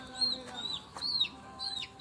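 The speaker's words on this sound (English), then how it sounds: "look at these cute chicks and chickens" Chickens and chicks on a family farm give a few short, high peeping clucks in quick succession, close by and moderately quiet, with no talking.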